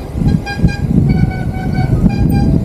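A vehicle horn toots out on a steep road in San Juan, Batangas, sounding through steady engine and road noise, with brief repeated honks rising over the traffic rumble.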